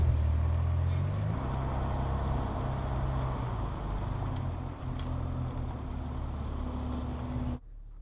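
A 2019 BMW X5 M50d steering itself backward out of a driveway with its reversing assistant, a steady low engine and road rumble close by with a faint tonal hum, ending abruptly.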